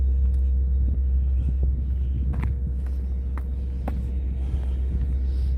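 Train idling near Oyster Bay Beach on Long Island, a low steady rumbling drone that holds throughout with faint scattered clicks and thumps over it, no talk.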